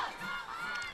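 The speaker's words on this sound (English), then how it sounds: "You hear the crowd, hold them, hold them." A football game crowd chants continuously, a dense mass of voices shouting together at steady volume from a distance.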